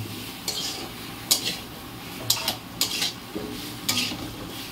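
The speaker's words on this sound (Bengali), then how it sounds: "আর দিয়ে দিচ্ছি একটু ক্যাপসিকাম। এবার এগুলোকে আমি ভাজবো।" Capsicum going into a pan to fry, with a spatula scraping and clinking against the metal in several sharp strokes over a soft background hiss.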